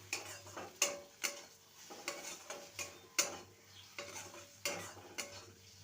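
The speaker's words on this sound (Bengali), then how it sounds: "আবারও সমস্ত কিছু কষিয়ে নেব" Spices for a vegetarian drumstick curry are stirred and fried in a pan, with a rhythmic series of spatula scrapes and clacks against metal over a soft, low sizzle, close and quiet, no talk.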